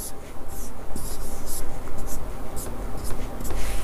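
Pen or pencil scratching steadily across paper while the given part of a school math problem on cube volumes is written out, a continuous close rubbing texture with short strokes and lifts, no speech.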